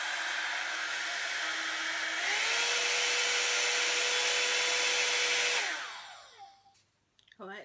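A Nicky Clarke hot air styler blowing with a steady whirring hum, stepping up to a louder higher speed partway through, then switching off and winding down, followed by a few faint clicks and handling noises.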